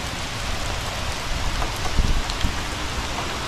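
Hail patters densely and steadily on a surface, a close, crackling hiss with occasional sharper ice hits standing out.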